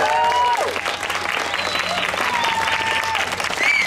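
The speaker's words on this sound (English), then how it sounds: "Big round of applause for them." A youth climate rally crowd outdoors applauds and cheers for the organizers, a steady wash of clapping over the full stretch, with a few whistles and voices mixed in.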